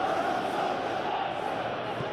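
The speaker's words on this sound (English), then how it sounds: "The crowd are calling for this to be put to bed." Simulated football stadium crowd from a Premier League match between Chelsea and Tottenham, a steady dense roar of massed voices chanting at a constant level with no breaks.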